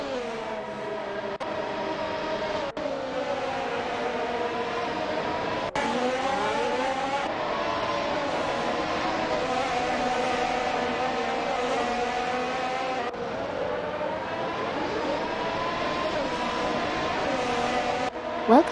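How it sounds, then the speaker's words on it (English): Formula 1 race car engines whine and shift pitch through the gears on track in a racing video game, a steady high drone of several cars close together running under commentary. "The race is heating up as we watch these R-driven cars battle it out on the track."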